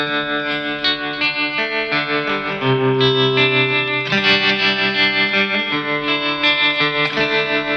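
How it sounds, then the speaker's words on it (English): A Glarry Thinline Telecaster rings through a Fender Mustang LT25 amp with a vintage tremolo effect, sustained chords pulsing in steady volume waves, loud and continuous with no talking. "this is vintage tremolo here"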